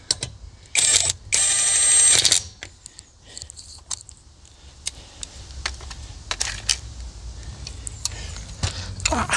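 An INGCO ICWLI2001 impact wrench loosens a fastener in one loud, harsh burst of rapid hammering lasting about a second and a half, followed by scattered clicks, taps and handling noises at close range.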